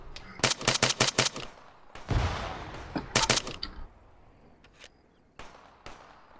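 Gunfire in the ArmA 3 video game during a co-op battle: rapid bursts of automatic fire in two volleys, with a heavy blast between them and scattered single shots afterward, loud and close.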